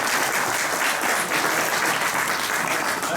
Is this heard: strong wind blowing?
no